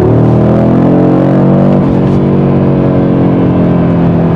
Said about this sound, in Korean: 엔진 소리뿐만 아니라 이 배기음도 굉장히 좀 우렁차고 하드코어해집니다.